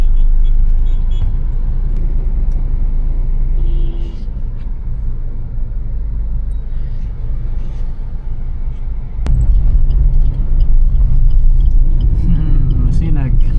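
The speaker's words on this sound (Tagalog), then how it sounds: "Traffic dito sa Masinag, Antipolo." Road traffic in Masinag, Antipolo rumbles steadily with a loud low engine drone from passing cars and buses, swelling louder near the end, while a voice talks over it.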